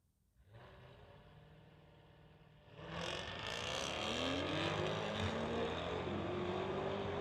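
A Jaguar and a BMW drag racing in a street-legal event: a low engine drone gives way to a loud launch and roaring acceleration at about three seconds, holding strong to the end.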